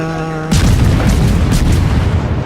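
Heavy warship guns boom in a naval battle in World of Warships, one loud blast erupting after a brief hum and rolling on as a dense roar of gunfire and explosions.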